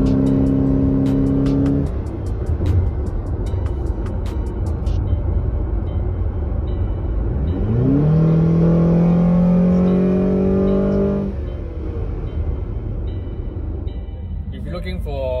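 A Honda Odyssey RC1 minivan fitted with a throttle controller accelerates hard from inside the cabin, engine note droning loud and steady, then rising sharply in pitch and holding strong before easing off, with a constant road roar underneath.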